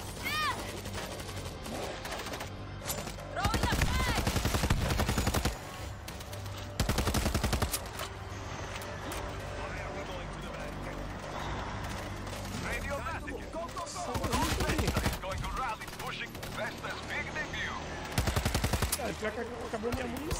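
Loud bursts of automatic gunfire in the zombie shooter game World War Z: Aftermath, several rapid volleys of a few seconds each separated by quieter stretches of game ambience and scattered single shots, with a voice talking at times.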